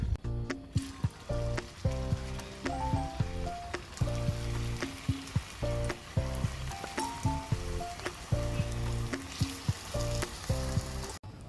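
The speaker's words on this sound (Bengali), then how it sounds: "আলুর টিকিগুলো ভাজার জন্য এখানে আমি একটা কড়াই বসিয়ে নিয়েছি চুলোতে, তাতে দিয়ে দেব সয়াবিন তেল" Potato tikkis fry in soybean oil in a kadai on the stove, giving a steady, close sizzle and crackle broken by tapping knocks from a utensil, with no talk.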